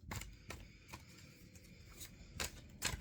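Quiet, brief bursts of cards being shuffled, a few soft riffling flutters separated by pauses, close up and faint.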